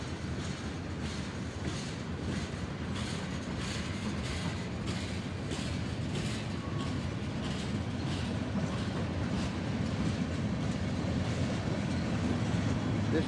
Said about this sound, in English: As you can see, that the train is just barely passing Gates Road right now.